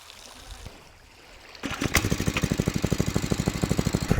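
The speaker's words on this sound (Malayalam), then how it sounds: "കടലിൽ നിന്ന് വെള്ളം നിറച്ചിട്ട് പമ്പ് ചെയ്യാണ് അല്ലേ" A pump draws water from the Red Sea near the shore, starting after quiet background noise and then running in a loud, fast, regular chugging pulse with splashing water.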